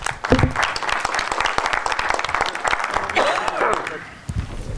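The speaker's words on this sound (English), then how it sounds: "can we have a big round of applause for all three speakers?" An audience at a science session gives a hearty round of applause for the speakers, dense clapping with some voices mixed in, easing off near the end.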